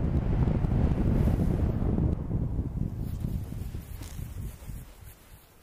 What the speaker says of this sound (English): Crosswind.